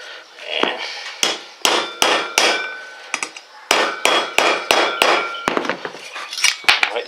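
A hammer knocks holes in a metal center hub cap from a Ford Expedition, giving sharp, ringing metallic blows in uneven bursts, close and loud, with no talking.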